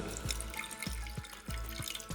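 Water runs steadily into a cooking pot already holding white wine, in a pear dessert preparation, with a continuous liquid splashing and trickling sound close by and no talking.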